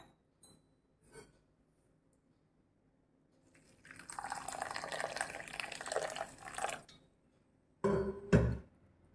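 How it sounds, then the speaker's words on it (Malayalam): Water poured over oats in a bowl to soak for a smoothie, a steady close pour running for about three seconds, followed by a short louder splash near the end, with faint taps before it. "ഞാനിതിലേക്ക് കുറച്ച് വെള്ളം ഒഴിച്ചു കൊടുക്കുകയാണ്."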